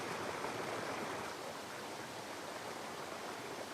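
A young mountain river rushes through deep glacier-carved ravines, a steady, dense wash of flowing water with no pauses, heard alone at a distance.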